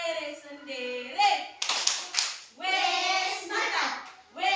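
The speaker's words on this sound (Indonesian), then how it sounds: "Tepuk apresiasi untuk diri sendiri." A group claps their hands in appreciation during a school coaching session, rhythmic bursts of clapping mixed with voices speaking and chanting over them, including children.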